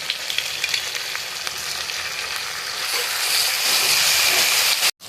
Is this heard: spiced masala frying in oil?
yes